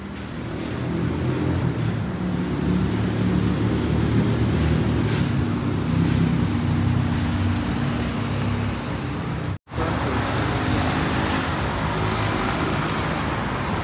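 Two Bentley Flying Spur W12 sedans drive along a São Paulo street amid steady traffic rumble and wind buffeting, the engine noise continuous and fairly loud with a brief cut near the end, no talking.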